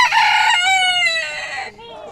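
A rooster crows loudly and close, one long drawn-out call with a rising then falling tone.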